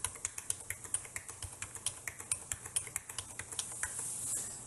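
Numbers being typed on a computer keyboard: a quick, even run of about twenty crisp, close key clicks, fading into a soft hiss at the end.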